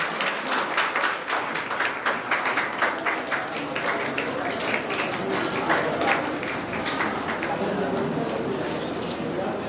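Crowd applause at an award ceremony honoring educators, a dense steady wash of clapping running throughout, with a busy crowd texture underneath that holds at an even level.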